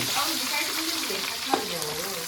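Onion frying in a pan on a gas stove, a steady soft sizzle with light crackle running throughout, close by and moderately loud, with a brief sharper tick partway through.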